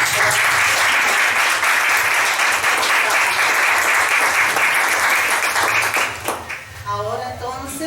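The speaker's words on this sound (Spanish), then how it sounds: "Así que nuestro aplauso para todos." A large audience applauds a research team at a teacher-training institute event, dense sustained clapping that fills the room for several seconds, then thins out near the end as a voice begins speaking.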